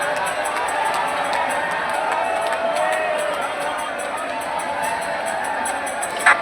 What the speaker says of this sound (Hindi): इतना काफ़ी भीड़ था, जयकारी आप लोग भी सुन लीजिए